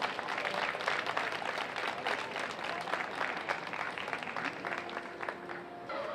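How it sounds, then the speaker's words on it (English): A crowd at a county fair show gives Miss Kaya and her court a round of applause, a steady, moderately distant patter of many hands that holds for several seconds, with faint voices underneath. "Let's give Miss Kaya and her court a good round of applause."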